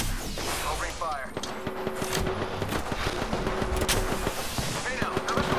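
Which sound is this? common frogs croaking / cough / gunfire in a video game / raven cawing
gunfire in a video game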